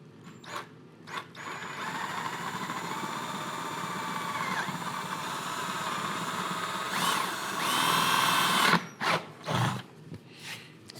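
A handheld power saw cuts along a marked line close to the edge, a steady whining drone that swells louder near the end, then breaks into short separate bursts as the cut finishes.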